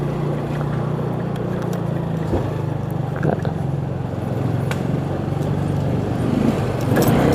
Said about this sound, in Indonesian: Oke, ada mobil, kita ikut dulu sebentar.